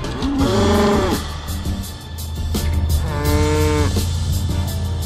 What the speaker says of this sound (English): serenaded by cows.